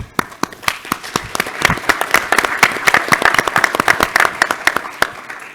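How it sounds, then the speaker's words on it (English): A modest audience at a tech panel on enterprise XR and wearables gives the organizers a round of applause, crisp individual claps rattling close by at first, thickening into brisk clapping that tapers slightly toward the end. "So big round of applause to them if everybody would"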